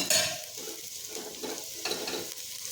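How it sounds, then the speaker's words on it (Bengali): Potatoes frying in a pan on a low flame, a steady soft sizzle broken by repeated scraping stirs and light utensil clinks against the pan, close and moderately quiet with no talk. "আলু দিচ্ছি একদম লো ফ্লেমে বসিয়ে নিয়েছি"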